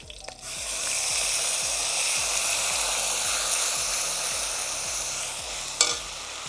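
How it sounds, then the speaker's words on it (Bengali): Onion paste fries in hot oil in a pan for a Bengali chitol fish kalia, hissing in a steady sizzle with repeated scraping stir strokes and a sharp clatter near the end. "পেঁয়াজ বাটাটাকে একটু ভালো করে ভেজে নেব।"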